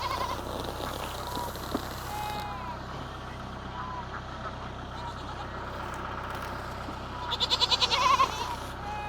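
A goat bleats a few quick times near the end over a steady low mechanical hum and faint background noise.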